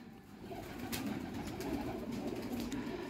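A female desi high-flyer pigeon coos softly and steadily, a low continuous murmur with faint background rustle and no voices.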